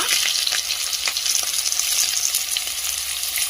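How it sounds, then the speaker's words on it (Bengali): Potato pieces and cauliflower stems fry in hot oil for a Bengali mixed-vegetable chorchori, giving a loud, dense, even sizzle that hisses close by without pause. "এই গরম তেলের মধ্যে প্রথমে আমি দিয়ে দেবো আলু, এর সাথে দেবো আমি এই যে ফুলকপির ডাঁটা"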